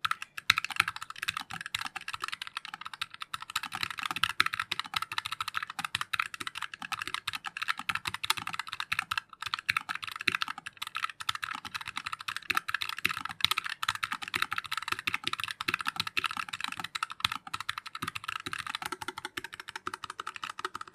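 Continuous fast typing on a Keychron S1 low-profile mechanical keyboard with brown switches and double-shot PBT keycaps, dense close clicks and clacks in an uneven rhythm, no talking.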